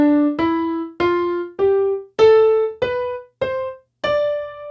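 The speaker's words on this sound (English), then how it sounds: "So the next step up, based off of the D, is called Dorian." Dorian mode scale starting on D, played as eight clean, sustained notes rising one at a time at a steady pace, with no other sound.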